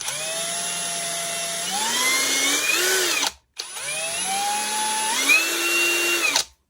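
A cordless screwdriver drill spins a straight bit in two runs, its motor whine rising in pitch as it speeds up, then cutting off briefly before starting again.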